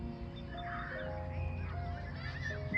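Wild ducks on Cub Lake honk and quack in a steady chorus of overlapping calls, with no speech.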